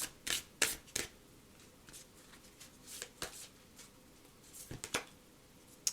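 Moonology oracle cards drawn and shuffled from a deck for a tarot-style reading, a few soft papery flicks and slides, quiet and close, with faint handling rustle between them and no talk.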